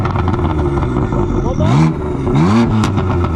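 A 560bhp BMW M3 revs with its exhaust valves open, giving two loud rising-and-falling engine blips over a steady idle rumble, with a person speaking briefly.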